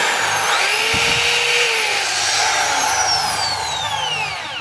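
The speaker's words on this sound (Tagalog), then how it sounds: "Lagyan natin sa drill." A DeWalt DWD024 half-inch hammer drill running steadily in plain drill mode, with a loud continuous whining motor that holds for several seconds and eases off slightly at the end, no voices.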